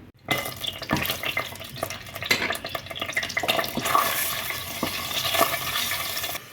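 Minced meat dish cooking in a pan, with steady sizzling and frying under repeated scraping stirs of a utensil, close and busy throughout.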